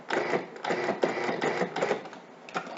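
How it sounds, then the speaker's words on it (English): Food processor pulsing dry ingredients for an apple almond tart: several short, buzzing bursts in an uneven rhythm, close and fairly loud, with no talk. "So now I'm going to just pulse this a couple of times to get the dry ingredients mixed up."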